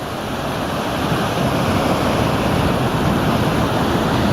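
Ocean surf rolls in steadily at a river mouth crossing in Hawaii's Waipio to Waimanu valley trail, a loud broad roar of breaking waves mixed with wind buffeting the microphone.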